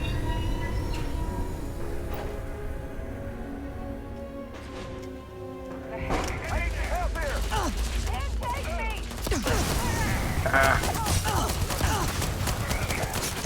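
Gunfire in the space game Starfield clatters in loud bursts over a rumbling mechanical background, with a quieter stretch before the shooting picks up again. Voices are heard briefly.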